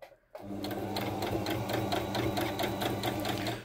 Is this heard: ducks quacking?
no